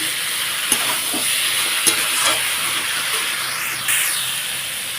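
Water is poured into sautéed masala for an ash gourd fish curry, setting off a loud, close hiss and sizzle with steam and a few sharp bubbling pops as the liquid hits the hot pan.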